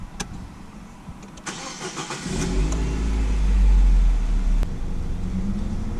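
A 2008 Nissan Tiida, just after an idle air volume relearn, cranks briefly and fires up, then the engine revs and holds a steady, loud hum before settling back, heard close with no talking.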